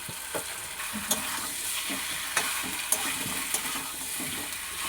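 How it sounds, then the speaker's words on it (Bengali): Chicken pieces sizzle in hot oil with spices in a pan while a utensil stirs them, a steady frying hiss punctuated by soft scraping clicks at an irregular pace, close and moderately quiet with no talking. "মাংসটা কষা হচ্ছে। মশলাটা যতক্ষণ না তেল ছাড়বে ততক্ষণ পর্যন্ত কষতে হবে।"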